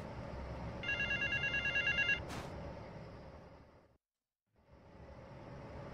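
Telephone ringing in GTA Vice City, a bright electronic bell trilling in a rapid pulsed burst for about a second over steady game ambience, then a brief silence.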